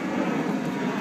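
A fixed-wing airplane passes overhead as a steady, broad engine drone, moderately loud and unbroken throughout, with no talk over it.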